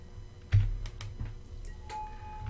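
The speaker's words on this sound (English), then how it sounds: "I know my keyboard can get a little noisy" Computer keyboard keys tapped in a few quick, separate clicks, close to the microphone and fairly soft, with no talking.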